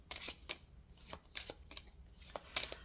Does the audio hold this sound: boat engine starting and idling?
no